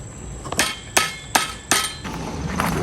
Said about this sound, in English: And then hammer it.